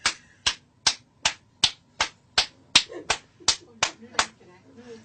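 A dozen sharp hand claps at a steady even rhythm to select a floor in a clap-controlled elevator, close and crisp, with faint murmuring between the last few.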